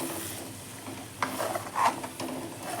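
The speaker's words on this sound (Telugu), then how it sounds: "ఇప్పుడు మనం దీన్ని కాస్త నెమ్మదిగా కలిపేసుకుందాం." Egg bhurji mixture sizzles softly in a frying pan while a spatula scrapes through it slowly in a few short strokes, close and fairly quiet, with no speech.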